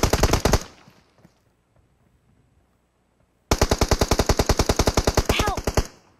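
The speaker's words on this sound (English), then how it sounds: "He literally shot me through the wall." Automatic gunfire in PUBG Mobile: a short rapid burst, a quiet gap, then a long loud sustained burst of evenly spaced shots, close and sharp, with no talking over it.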